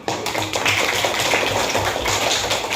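A classroom of students claps together indoors in a steady, dense burst of hand claps that carries on evenly for a few seconds, with no talking over it.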